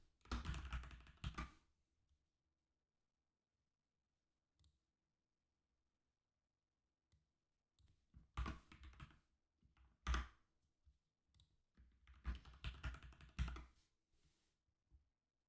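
Buttons on a calculator are pressed in short bursts of quick clicky taps, close and fairly loud, separated by quiet pauses.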